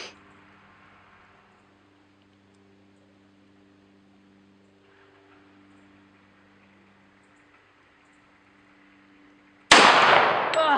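A single loud, sharp report from an H&K .45 pistol fired at a shooting range cracks out near the end, after several seconds of quiet low hum.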